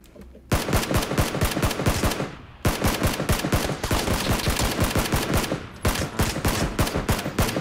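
Automatic gunfire in the PUBG video game rattles in loud, rapid, close bursts, with two brief pauses between long sustained strings of shots.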